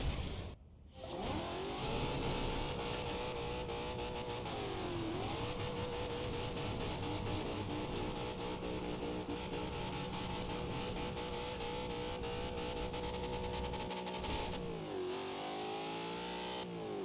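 A car engine in the racing game Forza Horizon 2 revs continuously while drifting, sustained high whine with pitch dips and climbs as the throttle shifts, loud and steady for most of the stretch, with no talk.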